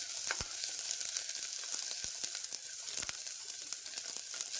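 Onions frying in oil for mutton chops sizzle with a steady, dense hiss, with a few sharp crackles and pops rising above the constant bubbling, close and fairly loud with no talking.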